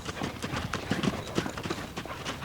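A young horse lopes in a round pen, its hooves thudding on the ground in a quick, steady rhythm of close, dull beats.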